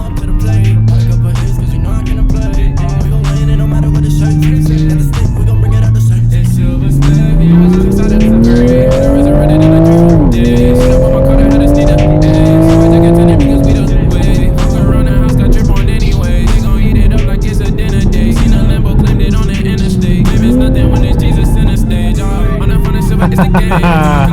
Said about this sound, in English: like the sound of this car.